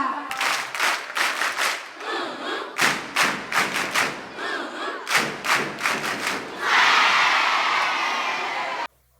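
Students at a Nigerian school's 90th anniversary perform a rhythmic love clap: a crowd claps in synchronized bursts with shouts between patterns, ending in a long wash of sustained applause and cheering.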